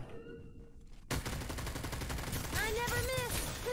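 Rapid bursts of gunfire from the battle royale video game Farlight 84, a quiet opening giving way to dense, loud continuous shooting with game effects sweeping over it.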